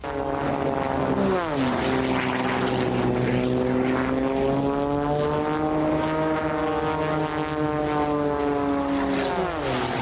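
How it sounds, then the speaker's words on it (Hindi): A propeller race airplane flies between pylons, its loud, steady engine drone bending sharply in pitch as it sweeps past close by, with no talk. "मार्टिन ने अपने विमान को 2 खंभों के बीच से गुजारने के बाद उसे आसमान में नाक की सीध में उड़ाया"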